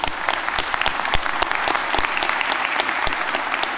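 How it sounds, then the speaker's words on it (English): Graduates at the City College Dublin graduation ceremony receive loud, sustained audience applause, with dense clapping throughout and sharp individual claps standing out close by. "a round of applause, everybody"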